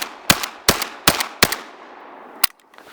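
Buckshot fired from a Dominion Arms Cougar shotgun, a Remington 1100 clone, at a 15-yard target outdoors: four loud, sharp blasts spaced about a second apart, then a fifth after a longer pause, each with a short echoing tail.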